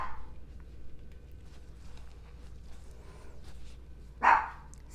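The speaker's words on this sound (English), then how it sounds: "I apologize for his barking, but you know how dogs get with fireworks." A puppy gives a single sharp bark near the end of a mostly quiet outdoor stretch while fireworks are being set off, with no other clear bark or bang.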